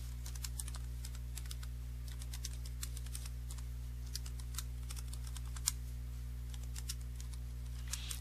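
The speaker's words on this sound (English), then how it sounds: "With the text tool selected" Fingers type on a computer keyboard in a quiet room: rapid, light, irregular key clicks over a low steady electrical hum.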